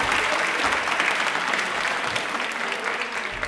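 A crowd breaks into steady, dense applause, many hands clapping together at a constant loud level for a few seconds.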